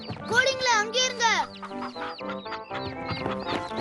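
Chickens in a Tamil children's cartoon cluck and squawk in quick, bright bursts, loud and close, with voiced, clucking calls that may be a performer imitating the birds.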